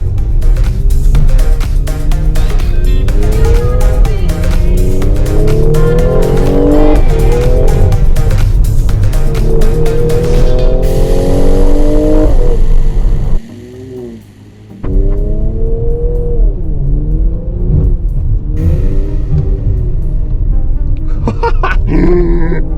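A 2017 Mercedes GLC43 AMG bi-turbo SUV, rated 362 horsepower, accelerates with traction control off and wheels slipping: loud repeated rising engine revs, a brief drop in power midway, then more revving, up close.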